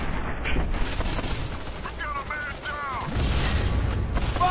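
Gunfire in the video game F.E.A.R. 3, loud bursts of shots and booms amid combat noise, with shouting voices and radio chatter mixed over the firefight.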